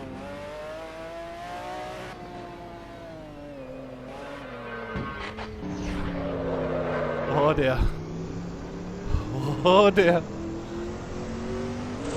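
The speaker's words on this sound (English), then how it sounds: "the Mercedes C9 is hands down the fastest car in the Dream Pack" A Mercedes C9 race car in Assetto Corsa revs hard and shifts through gears, its engine note loud and close with sharp rises and drops, while someone talks over it.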